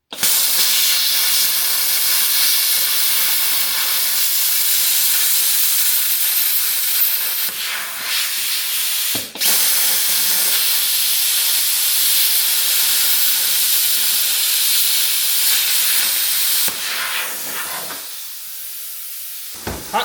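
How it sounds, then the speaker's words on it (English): A torch cutting across an existing weld on a K30 rear recovery point, a loud, steady roaring hiss that runs almost the whole time with brief dips and ends abruptly. "we're just gonna try and cut right across this entire weld that's already on here"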